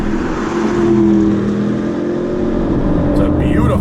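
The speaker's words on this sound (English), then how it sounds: "It's a beautiful sounding engine with that sport exhaust." Porsche Panamera GTS Sport Turismo wagon with a twin-turbo V8 and sport exhaust, a sustained deep engine drone with a tonal hum, holding steady and loud from inside the car before a brief rise near the end.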